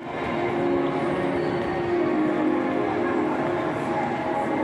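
A Japanese train rolls along the rails, a steady loud rumble with continuous wheel and track noise throughout and no breaks.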